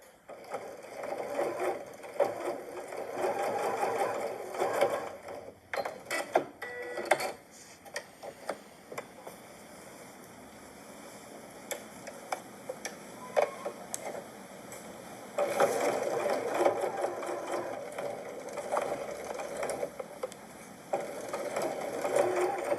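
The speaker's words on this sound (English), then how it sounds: "I'm just going to baste at a 1/4 inch seam allowance." A Janome sewing machine bastes a quarter-inch seam on a tote bag, running in several close bursts separated by quiet pauses with small handling clicks.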